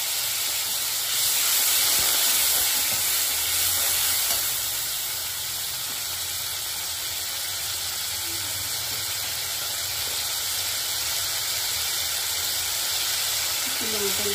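Water poured into a hot pan hisses and sizzles steadily while mocha pulao, a banana-flower rice dish, cooks with turmeric, a loud burst at first easing into a continuous softer sizzle.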